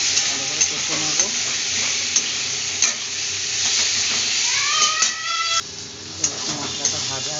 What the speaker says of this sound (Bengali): টমেটো দিয়ে দিলাম, পেঁয়াজটা ভালো করে কষে নেবো